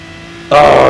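Aston Martin DB9 race car engine in a sim race bursting into a loud, sustained rev after a quieter half-second idle drone, tires spinning as the pitch holds steady and close.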